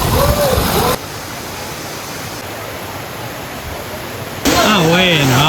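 A waterfall at Baños, Ecuador, roars and splashes as a steady, close wash of spray noise, with a person speaking over it at the start and end.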